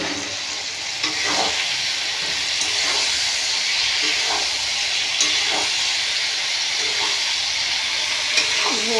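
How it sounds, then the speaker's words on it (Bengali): Ridge gourd and okra fry in a pan for a village-style mustard and poppy seed dish, giving a steady, close sizzling hiss with faint scrapes of stirring now and then. "ঝিঙেটা একটু ভালো করে কষিয়ে নেব ঝিঙে আর ঢেঁড়সটাকে।"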